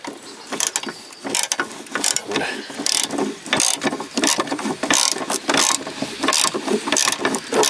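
A ratchet wrench turns a 14mm bolt on the exhaust of a 1992–2002 Toyota Camry, giving rapid, uneven bursts of clicking with short pauses between strokes, close and loud.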